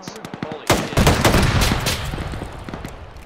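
Gunfire in the military video game ARMA 3, a loud burst of rapid shots followed by sustained automatic fire and scattered reports, heard alone without talk.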